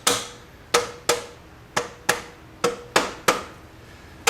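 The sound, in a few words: plastic hammer tapping on an engine assembly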